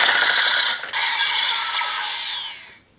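A plastic Kiramei Changer toy disc spins for an energy charge sound, with rapid ratcheting clicks and a whirring mechanical buzz that slows and fades out after about two and a half seconds.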